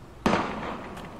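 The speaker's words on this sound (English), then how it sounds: "Gunfire!" A single sharp gunshot bang in the video game Valkyria Chronicles on Switch cracks out nearby, followed by a short rumbling decay and a faint second pop.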